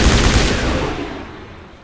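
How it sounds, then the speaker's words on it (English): Assault rifle gunfire in a space adventure video game, a loud, dense burst of rapid shots at the start that decays and fades over about two seconds. "I am a huge fan of assault rifles in these games"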